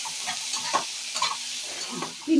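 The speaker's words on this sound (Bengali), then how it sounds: "বাদাম আর পেঁয়াজটা ভালো করে আবারও একটু ভেজে নেব।" Peanuts and chopped onions fry in a pan for a spiced puffed-rice dish, with steady close sizzling and repeated scraping and stirring clicks throughout.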